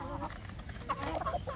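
Free-range chickens on a farm, a rooster pestering hens, with clucking and short squawking calls rising and falling against a continuous background of scratching and general yard noise.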